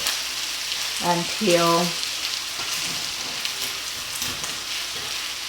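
Kung pao chicken fried rice with red bell pepper and peas sizzles steadily in a hot pan over moderate heat as it is stirred. Someone talks over it, and a short hum from a voice or appliance rises briefly near the start.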